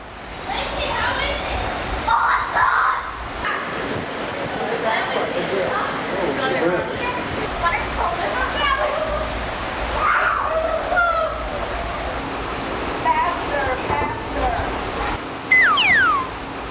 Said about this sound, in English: their very favorite fun spot was the water slide